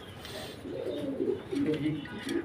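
Pigeons coo at a pigeon farm, a soft rolling cooing repeated over a low background, with faint voices nearby.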